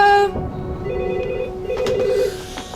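A hotel telephone rings in short repeated electronic trills, fairly loud and close over a low background murmur.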